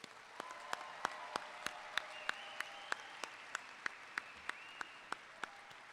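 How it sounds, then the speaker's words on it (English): An audience at the 2013 Craig School of Business convocation at California State University, Fresno applauds faculty and staff, a moderate round of clapping in a large hall with distinct sharp claps standing out at a steady pace. "Please join me in a round of applause, especially for the faculty and staff of the Craig School of Business"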